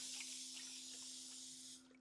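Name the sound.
spray bottle spraying bread dough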